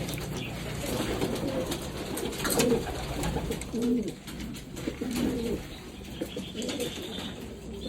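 Domestic pigeons cooing in a loft, with soft low coos repeating at a steady close distance and a brief flutter of wings, no voices.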